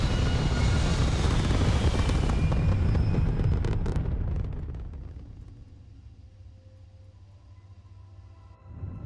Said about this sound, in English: All thrusters firing.